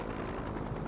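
A helicopter in the open-world action game Just Cause 3 drones steadily for under a second, a dense, continuous rotor rumble with no clear blade beat and no talk.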